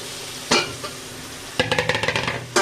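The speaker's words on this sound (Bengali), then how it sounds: "ভিউয়ার্স, দিয়ে দিব কেটে রাখা আলুগুলো।" Chopped potatoes tumble into a pan of catfish curry with a sharp clatter, followed by a burst of quick stirring scrapes and a brief sizzle, close and loud with no talking.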